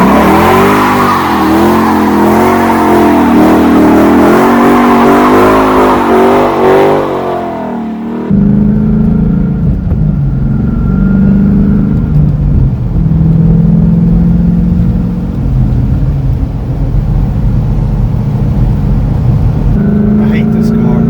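A 1970 restomod car doing a burnout: a loud, close engine roaring at high revs with tire squeal, then shifting to a lower, steady rumble as it continues, with people talking over it.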